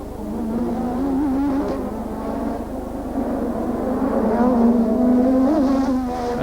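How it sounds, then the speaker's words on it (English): A 1984 Formula One racing car comes through the tight Detroit street circuit, its engine a sustained high-pitched whine that rises and falls steadily as it passes, loud and continuous, with no talk over it. "as Piquet comes through, making the most of the circuit"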